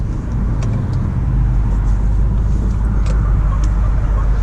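Interior of a Chevrolet Impala on the road, with a steady low engine and road rumble plus faint tire hiss, continuous and fairly loud throughout, with no voices.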